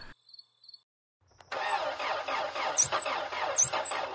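A car engine cranks and struggles to start after a few faint clicks, then a steady loud grinding starter whine runs on with a high squeal over it, close by.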